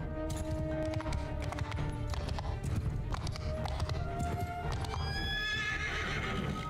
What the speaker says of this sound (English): Let's get off the horse.